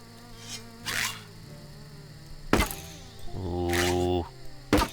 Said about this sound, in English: Yeah, they're not bees. I think I'm pretty certain they're gnats.